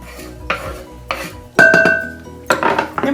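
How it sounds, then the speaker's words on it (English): Chopped broccoli and green onions are dumped into a bowl in several separate clattering pours, each a short burst of rattling pieces and bowl knocks, close and fairly loud. "I'm going to dump in my broccoli and my green onions with the white parts."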